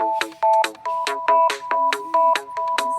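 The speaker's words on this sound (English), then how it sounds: "The bell will ring whenever the cat moves" A bright electronic ringing tone, repeated in quick rhythmic bursts of a steady pitch like a phone ringtone, loud and alone with no voices.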